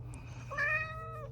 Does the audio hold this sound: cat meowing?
yes